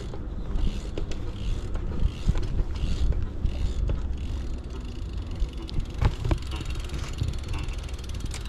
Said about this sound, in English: Free wheel, got that little tick. Got a little free wheel tick.